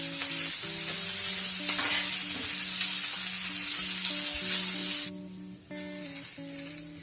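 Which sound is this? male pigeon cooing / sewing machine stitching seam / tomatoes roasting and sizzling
tomatoes roasting and sizzling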